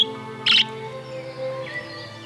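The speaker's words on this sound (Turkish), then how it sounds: "Bunlar muhabbet kuşları. Birbirlerine ilan aşk ediyorlar." Budgerigars chirping, one sharp bright chirp burst standing out loud above a quiet steady background hum, followed by a fainter warble.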